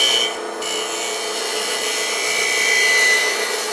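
A 3/8 spindle gouge cuts wood on a lathe, extended well past the tool rest, giving a steady, loud, hissing rasp that continues without pause, with no one talking.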